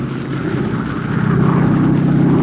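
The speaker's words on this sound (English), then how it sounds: "Taxiing at full throttle, the tow planes had to remain on the ground until the ton-and-a-half gliders were airborne." World War II C-47 Skytrain tow planes taxi at full throttle ahead of glider launches, a steady loud propeller engine roar that swells slightly midway and holds without a break.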